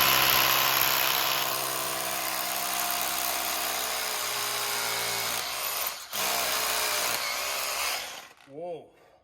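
A hammer drill bores into a wall, whining and rattling loudly and steadily for about eight seconds, then cutting out briefly, restarting and winding down near the end.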